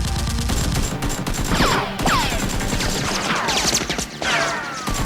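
Nerf guns fire in rapid bursts during a toy gun battle, giving repeated sharp pops and whizzing darts over a steady, loud background, with no pause in the volley.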